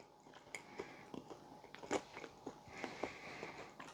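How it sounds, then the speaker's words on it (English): Someone takes a quiet bite of frozen pizza with a chickpea crust, cooked in a Ninja Combi, and chews it with soft, crisp crunches in an irregular rhythm. "Let's try to get a little bit of that chickpea, whatever it is, crust going on here in this bite"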